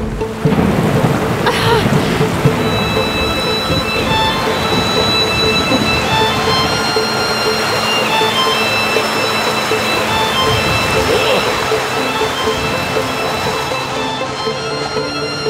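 Heavy rain pours steadily throughout, with a deep rumble of thunder rolling in near the start, loud and continuous, with no talking.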